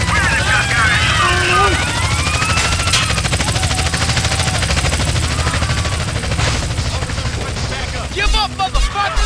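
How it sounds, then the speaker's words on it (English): Helicopter rotors thrum steadily amid bursts of gunfire and game sound effects in a GTA-based video game set in Liberty City, with a person talking over the noise. "I hear 2 helicopters."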